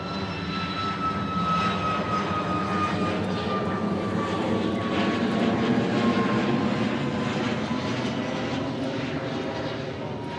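A jet aircraft rolls for takeoff from an airfield runway in Hawaii, a steady, broad engine roar heard at a distance with a thin whine gliding slowly downward, continuous for the whole stretch.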